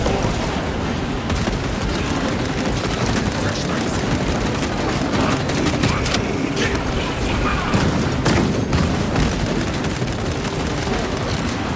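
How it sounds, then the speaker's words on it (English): Dense, loud battle din from the Warhammer 40,000: Space Marine 2 game, with a frag grenade blast buried among constant gunfire, booms and mechanical clatter that runs without pause. "Frag grenade deployed."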